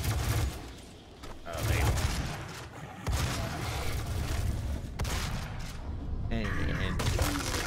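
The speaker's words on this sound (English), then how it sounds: "where's the gunshots coming from?" Sustained volleys of gunfire with booming impacts, continuous and loud, layered with game effects and a voice talking over parts of it, from the PC game Doom.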